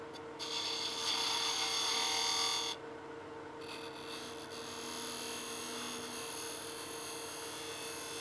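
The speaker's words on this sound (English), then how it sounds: "I'm going to remove a little of this extra wood here so that I can bring this curve around a little further." A turning tool cuts and rasps wood on a lathe spinning near 2,500 RPM while shaping a goblet's curve; a steady whooshing cut over a constant motor hum breaks off briefly, then resumes more softly.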